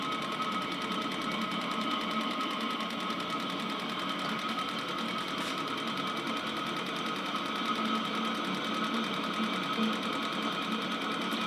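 A homemade-controlled Chinese diesel heater runs with its fuel pump turned up and sounding rough, a steady mechanical whir with rapid ticking close by, no voices.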